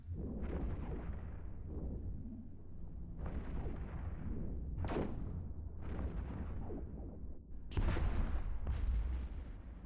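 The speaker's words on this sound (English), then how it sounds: "Guess I should actually fire my guns, huh?" Ship guns firing in the space game Eve Echoes, a Cynabal frigate fight: a steady run of heavy booming blasts over a continuous low rumble, loud and close, with sharper bursts coming every second or two.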